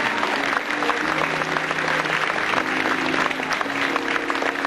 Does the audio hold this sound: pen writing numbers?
no